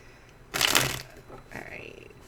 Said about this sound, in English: I do like to shuffle on camera.